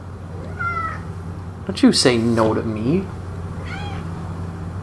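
An indoor cat meows up close, a couple of short mews and one louder drawn-out meow, with a person speaking to it in between.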